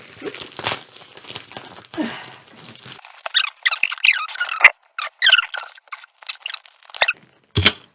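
A wrapped package is opened, with plastic or paper crinkling and tearing in quick uneven bursts, close and loud, with squeaky rustles and a brief soft voice near the start.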